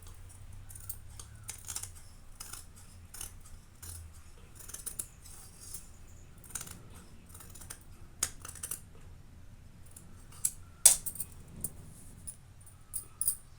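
Scissors cutting blouse lining fabric on a tailoring table: a long run of quick, crisp snips and clicks at an uneven pace, close and moderately loud, with occasional sharper clacks and no talking.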